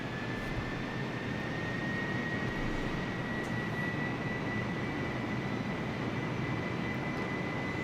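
Steady jet engine drone of an Airbus A380 in Microsoft Flight Simulator, a continuous broadband roar with a thin high whine running throughout, loud and unbroken with no talk.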